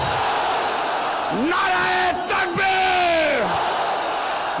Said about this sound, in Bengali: স্লোগান ধরুন, নারায়ে তাকবীর।